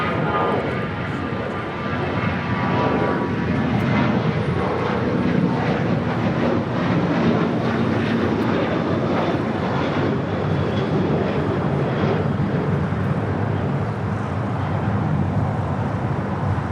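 Jet airliner taking off from runway 25 Right at LAX, a loud continuous roar of engines that stays strong throughout, with faint voices mixed in.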